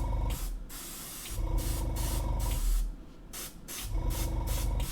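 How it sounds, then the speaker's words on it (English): An airbrush sprays AK 3rd Gen paint in close, loud hissing bursts, several of them a second or so long, separated by short pauses. "The paint's just coming out of the airbrush a little bit differently to how it normally comes out"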